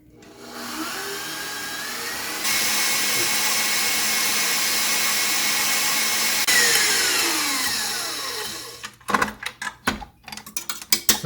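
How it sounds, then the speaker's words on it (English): An electric mixer whisking egg yolks with sugar for a traditional tiramisu torte, running as a steady loud whir that shifts pitch as the speed changes, then stops and is followed by clinks and taps. "we're going to whisk those and aerate them with 30 grams of sugar"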